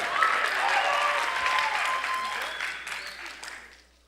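An audience at a church talk claps in a sustained burst of applause that swells briefly and then fades away over a few seconds, with no speech over it.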